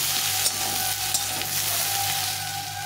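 Raw green banana and potato pieces fry in hot oil in a pan, a continuous close sizzle with a faint steady hum beneath and occasional light stirring clicks, no voices.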